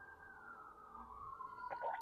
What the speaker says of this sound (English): Sorry if you hear some emergency sirens going off somewhere.